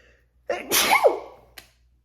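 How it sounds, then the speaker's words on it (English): A single loud, close sneeze with a sharp intake of breath before the burst, then silence. "I sneezed."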